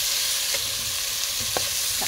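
Crab and jackfruit being stirred in coconut milk in a pot, a soft steady simmering hiss with a few light scraping strokes of a spoon.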